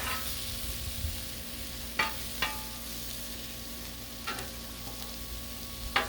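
Meat for cheesesteak tortas fries on a Blackstone griddle with a soft, steady sizzle. A few sharp spatula scrapes and taps break through at intervals.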